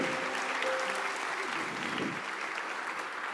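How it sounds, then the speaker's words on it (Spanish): A church congregation applauds during a service, with a dense, steady wash of clapping filling the room and a voice faintly audible in the background. "Dele un aplauso a Dios con todo su corazoncito"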